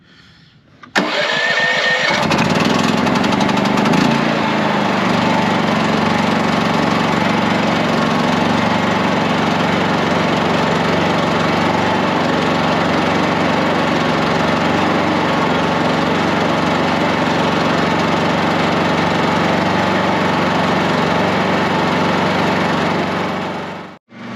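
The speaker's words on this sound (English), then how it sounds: "So I'm going to let this run a little bit." A Champion 9000-watt portable gasoline generator starts, then runs at a steady loud drone throughout, with no breaks or talking, before cutting off at the very end.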